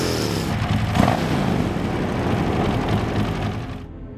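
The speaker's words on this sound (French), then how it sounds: "pour laisser le monstrueux moteur et sa sublime entrée d'air brevetée s'exprimer pleinement" A large Avinton motorcycle engine with a patented air intake runs loud and steady close by, a dense continuous roar that holds level before easing off at the very end.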